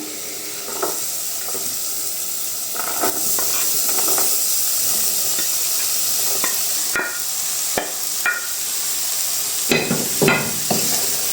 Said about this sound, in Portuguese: E aí a gente refoga a nossa couve-flor como se estivesse mesmo refogando um arroz.